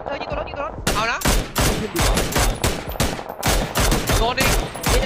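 Rapid bursts of loud gunfire in PUBG, sharp close shots hammering at a car in quick repeated volleys, with brief voices in the opening moments.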